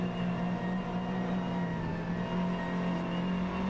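Racing car engines in a sim racing video game as a rival car overtakes, a steady loud engine drone with a strong tonal hum held throughout, no voices.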